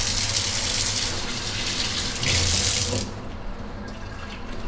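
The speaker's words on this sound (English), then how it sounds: "wash your hands, get all that Spam juice off" Tap running steadily into a kitchen sink as hands are rinsed under the stream, a constant close splashing gush that shifts tone as the hands move, then thins to a lighter trickle near the end; no talking.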